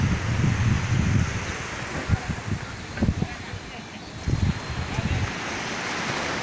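Ocean surf breaks and washes steadily on the beach at Praia do Sununga in Ubatuba, São Paulo, a constant hiss with gusts of wind buffeting the microphone and faint voices nearby.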